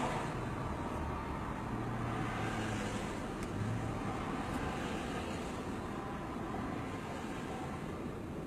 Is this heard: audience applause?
no